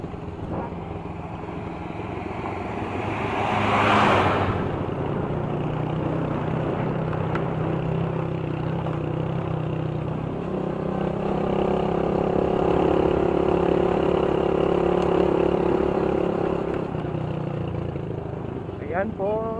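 A group of motorcycles, two of them lowered, riding along a road under construction, with a steady engine drone that swells and fades as they pass, while someone talks over it.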